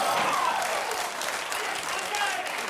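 Studio audience on a television football talk show breaks into continuous, even applause with a faint cheer or two, steady and full throughout the short stretch.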